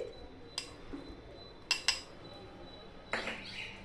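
Cornflour stirred into vinegar in a small bowl for tomato sauce, heard as a few faint, close clinks and taps of a spoon against the bowl spread across a quiet background.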